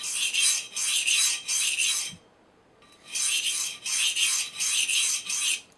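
Knife edge sharpened freehand on a coarse DMT diamond stone, giving repeated rasping strokes in two bursts separated by a brief pause, close and fairly loud with no talking.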